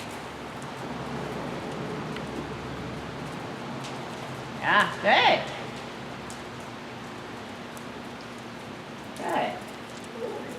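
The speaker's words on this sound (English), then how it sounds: "Steady outside rain." Steady rain falling outside during a horse-riding session, an even wash of soft patter throughout, with a person briefly talking over it midway and again near the end.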